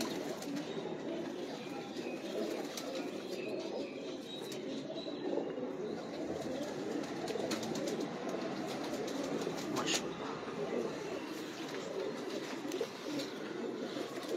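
A flock of pigeons coos in a low, continuous murmur inside a loft, the soft throaty calls overlapping steadily beneath faint background noise, with distant voices occasionally present.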